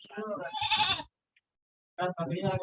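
A goat bleats with a wavering, quavering cry during an online coordinate geometry lesson. After a short silence a second bleat-like burst follows, and voices may mix in.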